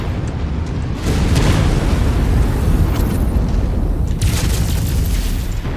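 Loud, heavy artillery explosions in the MechWarrior 5 video game rumble continuously, with a deep boom rising sharply at about one second and more blasts rolling on behind it, close and dense.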